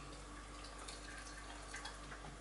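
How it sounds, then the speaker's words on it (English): Hot water trickling and pouring into a teapot to warm it, a quiet, steady liquid splashing with faint gurgles, heard alone at low level against a hum in the background. "I'll pour some hot water into this as well to warm this up again."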